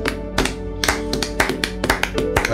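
A church congregation applauds, with irregular bursts of hand claps and sharp taps at close range, uneven in rhythm across a few seconds.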